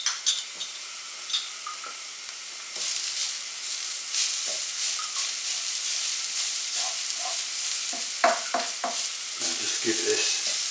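Bolognese sauce with garlic, oregano, salt and pepper sizzles in a pan while a utensil scrapes and stirs, with a steady hiss broken by clinks of metal against the pot.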